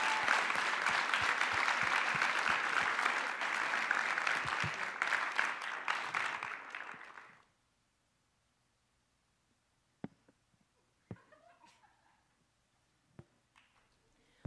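Audience applause for the directors at a Mr. CCH 2022 event: loud, dense clapping for about seven seconds that cuts off into near silence with a few scattered faint knocks.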